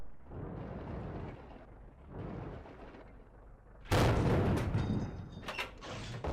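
Tank cannon fire in the World of Tanks video game, a single loud booming shot landing partway through after rumbling engine and battle noise, followed by sharp crackling impact sounds and ringing.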